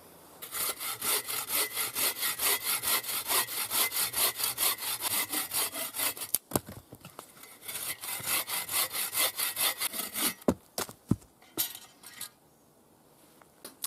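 A bow saw cuts through wood in steady rhythmic strokes, rasping back and forth up close, then slows to a few final scrapes and stops.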